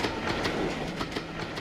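A passenger train on the Nilambur route rolling along its rails, a steady rumbling clickety-clack heard from inside the carriage, continuous and fairly loud.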